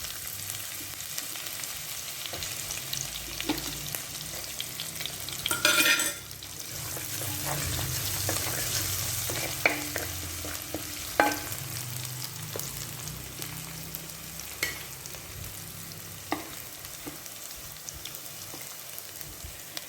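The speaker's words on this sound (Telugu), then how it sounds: "మొత్తం పచ్చిమిరపకాయలు వేస్తానండి" Whole green chillies fry and are stirred in a pan for a chana bhaji sabji, a steady soft sizzle crackling throughout with occasional scraping stir strokes and a brief louder hiss midway, close and unaccompanied by talk.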